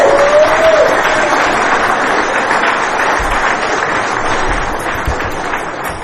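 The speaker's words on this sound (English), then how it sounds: "please clap for that" Audience applause at a spring 2024 fellowship meeting, a steady dense wash of many hands clapping that holds for several seconds and slowly tapers, with no talking over it.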